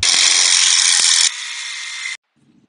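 A cutting wheel grinds through a steel suspension part on an old Ford truck during a coil-spring and four-link conversion, a loud, steady high-pitched whine that drops in pitch partway through, then cuts off, leaving faint low rumble.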